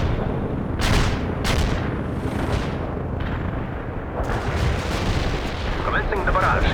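Rumbling artillery strike booms in World in Conflict, a dense continuous barrage with several sharp blasts cutting through, loud and sustained throughout.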